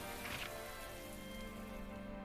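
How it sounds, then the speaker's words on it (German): Rain falling in the video game Atelier Ryza 2, a soft, quiet, even patter of drops on surfaces over a faint steady background tone, with no voices. "Es regnet doch hier gerade so schön."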